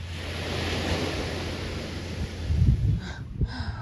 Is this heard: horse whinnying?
no